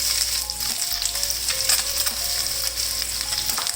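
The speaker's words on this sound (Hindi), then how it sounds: "यहाँ पे देखें जी अंडे दोनों साइडों से फ्राई करते हुए मुझे तकरीबन 2 मिनट हो गए" Eggs frying on both sides in a pan for anda masala, a loud, steady, close crackling sizzle running throughout with occasional stirring scrapes.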